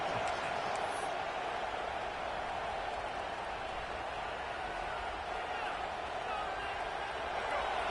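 Steady roar of a stadium crowd in College Football 26 during a red zone defensive stand, a dense, continuous wash of cheering noise with no clear breaks, and talk over it.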